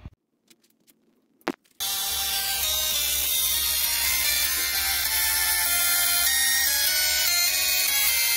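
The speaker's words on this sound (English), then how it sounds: "I have my ignition coil right here. We will play some tunes and have a good time." Homemade ignition coil playing music while sparking, a harsh buzzing electric tone that shifts pitch like a crude tune, loud and continuous after a few clicks and a sharp zap.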